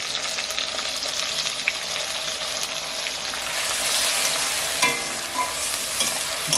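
Onions and a ground spice paste stir-fried in a pan give a steady, close sizzle with constant scraping and stirring, a louder burst of frying midway and a few sharp clinks of the spoon.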